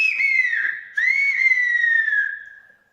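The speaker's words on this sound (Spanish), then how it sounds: "vamos a silbar esas expresiones" Two long whistled phrases of the Tenerife whistled language, each a sliding tone that rises and falls, the second sustained longer before trailing off; a close, clear human whistle with no talking.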